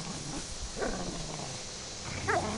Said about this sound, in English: You hear that growling?